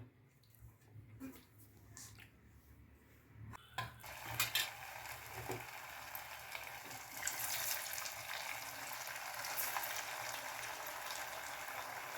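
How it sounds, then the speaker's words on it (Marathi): Dahi vada for a fasting meal frying in a pan of hot oil: a steady sizzling hiss swells after a few quiet seconds and holds, with occasional clinks of utensils and no talking. "तर त्याच्यामध्ये आता आपण ते तळून घेऊया"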